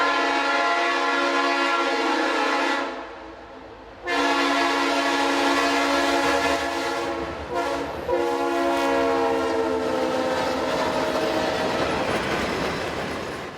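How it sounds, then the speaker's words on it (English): A southbound freight train of empty ballast hoppers hauled by two GP38-2 diesel locomotives passes close by, with a loud sustained horn blast that breaks off briefly and then resumes over the rumble of the train. "These southbound empty ballast hoppers were hauled by a pair of GP38-2s."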